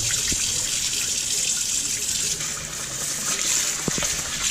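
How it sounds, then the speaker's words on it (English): Tap water runs into a sink to rinse white rice, a steady splashing gush with a few brief clunks of the pot near the end. "You want to just swirl it around, and rinse it again"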